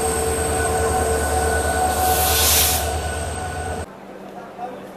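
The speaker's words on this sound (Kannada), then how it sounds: "Goa express train. Platform number 1ರಲ್ಲಿ ಎಂಟ್ರಿ ಆಗತೈತಿ." The 12780 Goa Express rumbles heavily into platform 1 at Miraj station with squealing wheels and a steady mechanical drone, then the noise drops away abruptly near the end.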